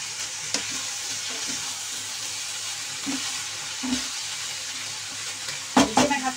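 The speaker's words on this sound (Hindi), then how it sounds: "अब मैं इसमें ये सब्जी डाल दूंगी जो तो मैंने हल्की सी फ्राई करी थी सब्जी और इसे मैं मिक्स कर लूँगी मसाले के अंदर" Lightly fried vegetables for aloo gobi being stirred into sizzling masala in a pan, a continuous hiss with scraping stirs that grow louder and busier near the end.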